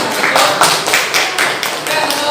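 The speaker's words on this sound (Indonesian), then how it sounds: "kita beri tepuk tangan untuk kelompok ini." Ninth-grade classroom students clap together for a group in short, rhythmic bursts of roughly two claps per second, loud and close, with no voices over it.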